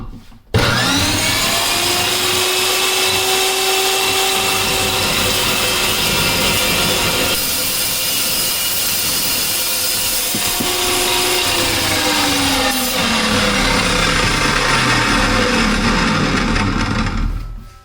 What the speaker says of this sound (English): use the chop saw to roughly cut the stock into the right shape